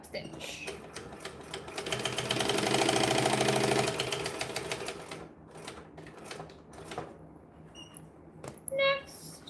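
Sewing machine top stitching a folded bag seam, a fast, steady mechanical run of needle strokes lasting a few seconds before easing off, with talk in the background.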